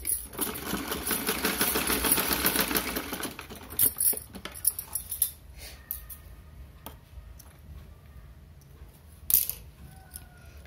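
Sewing machine stitching a small outfit for a Laddu Gopal idol, a steady close whir for a few seconds that stops, followed by scattered light clicks and handling sounds, with no talk.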